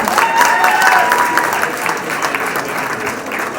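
Audience applause at the Showbiz India 16th anniversary party greets actor Harman Baweja, a loud, dense, steady wash of clapping from a crowd, with a faint tonal whistle or cheer early on and no speech.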